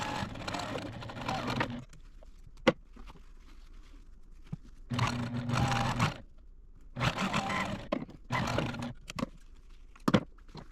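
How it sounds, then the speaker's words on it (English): Sewing machine stitching quilt pieces together, running in several separate bursts of rapid whirring and clatter with quiet pauses in between, close and moderately loud. "I'm going to take these over to the machine"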